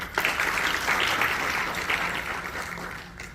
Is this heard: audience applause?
yes